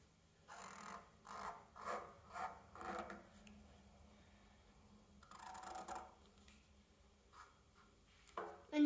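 A pencil traces an egg outline on paper in a run of soft rhythmic scratching strokes, quiet and close, with pauses between bursts.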